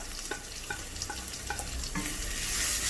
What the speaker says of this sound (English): Give it a good stir, and as well as the turmeric powder.